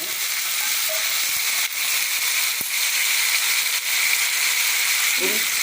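Dried red chilies and curry leaves fry in a hot pan while making a ginger and curry leaf thuvaiyal, giving a steady close sizzling hiss with a few faint clicks and pops throughout.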